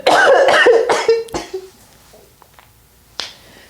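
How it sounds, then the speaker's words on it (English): A few sharp, rough coughs from a tickle in the throat in quick succession up close, followed by quieter throaty sounds and one last short cough. "So I'm trying not to cough, y'all. I got a tickle in my throat."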